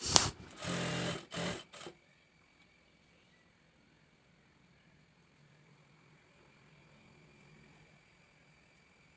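A sewing machine stitches a shirt collar in a short, rattling burst of stitching, then gives way to a faint, steady motor whine in a quiet room.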